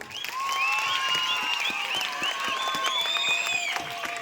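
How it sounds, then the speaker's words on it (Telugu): An audience applauds at a school event, with many hands clapping in a dense, steady wash that swells quickly and holds for several seconds, while high-pitched children's voices call and cheer over it. "ఆయనకు ఒకసారి గ్రాండ్గా క్లాప్స్ అన్నా"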